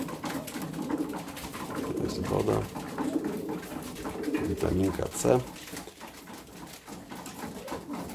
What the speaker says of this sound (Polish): Gołąbki już kończą, zaczynają tutaj tańczyć